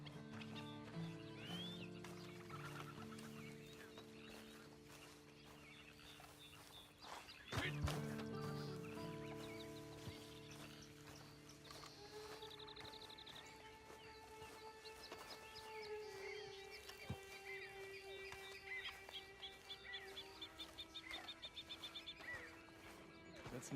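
A horse in the video game Red Dead Redemption 2 whinnies loudly partway through, with occasional hoof clops against a busy, layered background of ambient tones.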